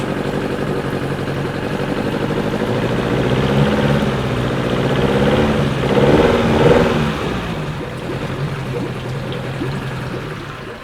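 A Yamaha F50A outboard engine runs rough with a carburettor in need of cleaning, giving a steady, close, loud mechanical drone that shakes and swells briefly midway before settling, with no talking.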